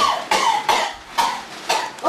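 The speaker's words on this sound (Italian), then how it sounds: "qua c'hai la tosse" A person coughs about five times in a row, sharp raspy bursts spaced roughly half a second apart. The coughs are close and loud, heard at a 2012 Estate San Martino event in Mondavio.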